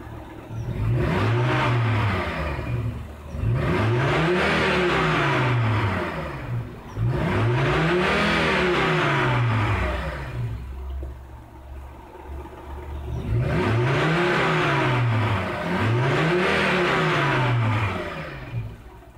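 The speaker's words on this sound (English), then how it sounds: "I'm going to rev it up" A 23-year-old Volvo engine, running without its mass airflow sensor, revs repeatedly in loud rising and falling surges, each climbing then settling back toward idle, close up with no talk.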